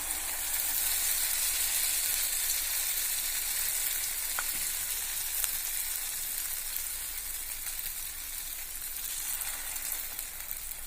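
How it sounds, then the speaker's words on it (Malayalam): Banana fritters (pazhampori) dipped in dosa batter fry in hot oil, giving a steady, dense hissing sizzle that holds level throughout with only a couple of faint clicks and no voices. "നമുക്കിതിനെ ഒന്ന് പൊരിച്ചെടുക്കാം"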